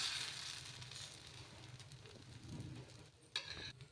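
Dosa batter spread on a hot pan sizzles in a steady, soft hiss with faint crackling, close but quiet, and a brief scrape near the end.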